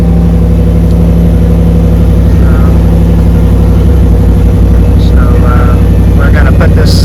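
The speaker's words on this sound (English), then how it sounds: "you want to start the truck, put the AC to cold" A truck engine idles steadily with its air conditioning blowing on high and set cold, a loud continuous low hum and fan roar filling the scene, with brief faint higher tones near the end.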